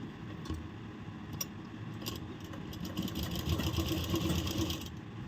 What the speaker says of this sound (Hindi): सबसे पहले ऊपर की तरफ से हम इस पर सिलाई लगाएंगे